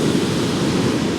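Heavy surf breaking on the shingle of Chesil Beach, a continuous loud roar of crashing waves with gusting wind noise over the microphone, no voices.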